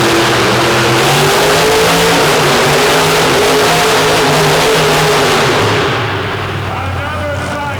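The Jurassic Attack monster truck's engine revs hard and loud as it spins in circles on concrete at a Kentucky monster truck show, with a continuous roaring drone that shifts pitch and eases slightly near the end, and an announcer talking over it.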